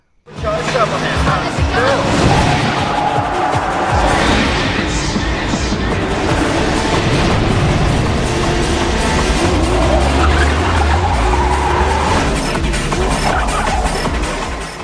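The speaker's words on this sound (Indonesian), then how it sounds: "Sky memakai Mitsubishi Lancer Evo dan Tangfung dengan menggunakan Subaru Imprezanya saling beradu kecepatan dan keterampilan." Mitsubishi Lancer Evo and Subaru Impreza race against each other in a 1999 street-racing film, with loud continuous engine roar, tire squeal and skidding, plus dense soundtrack layers throughout.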